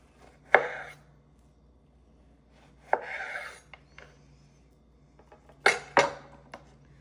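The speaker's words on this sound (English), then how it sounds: "Again, peel the plantain and cut them into 3 pieces." A knife cutting peeled plantains into pieces on a board, three separate bursts of slicing and scraping with quiet pauses between them, close and clear, with no speech.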